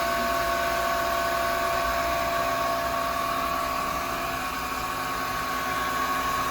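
A Studer S33 CNC cylindrical grinder runs a probing cycle, giving a steady, close mechanical hum with faint whining tones throughout, no talk.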